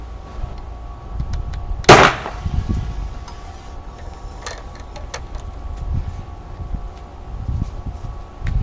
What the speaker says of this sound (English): I've reloaded it with the PMOG chalk-filled round. Now, this doesn't have much of an internal barrel